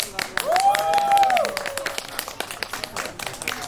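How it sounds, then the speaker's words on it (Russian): Residents of a village street applaud new energy-saving street lights, with a burst of scattered, brisk clapping from a small crowd, a rising whistle-like tone around the start, and some voices mixed in. "под аплодисменты жители встречают новое освещение"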